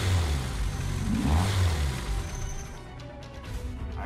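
Ford Escort RS Cosworth rally car engine revving at the start of a stage in Sebastien Loeb Rally Evo, a loud steady low drone that rises, then eases off toward the end.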